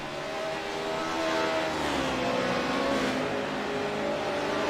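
A GR86 race car engine in a sim racing video game, droning and revving steadily at high pitch as the car runs flat out down a straight, loud and continuous with no voices.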